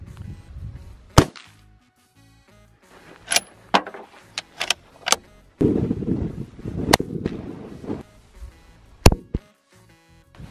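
A 22-250 rifle fired at a target over 50 yards away on a ranch gives several sharp, loud cracks, spaced irregularly with quiet gaps between them and a stretch of rumbling background noise in the middle.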